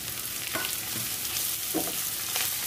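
Onion and curry leaves sizzle steadily in a pan of hot oil, with a few soft stirring scrapes breaking through the continuous frying hiss; no voices.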